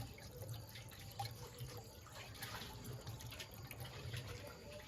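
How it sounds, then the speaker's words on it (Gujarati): Water is poured into a tractor radiator, a faint, steady trickling and splashing with a low background hum, quiet and continuous without talk. "ચાલો પાણીનું નાખી દઈએ"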